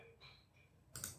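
A computer mouse clicks during Photoshop editing, a faint light tap early and then a sharper click near the end, quiet and close with no talk.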